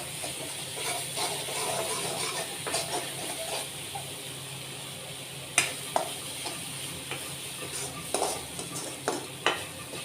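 Spices roasting in oil for a masala bitter gourd curry, a soft continuous sizzle and hiss with occasional sharp clinks and scrapes of a spoon stirring the pan, close by and fairly even.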